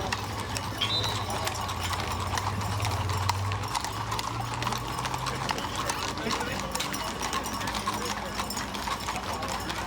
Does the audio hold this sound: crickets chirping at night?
no